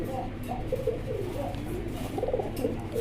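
Semi adal fancy pigeons coo in soft, repeated low calls, fairly close, over a steady background hum, with a voice talking nearby at a pigeon seller's.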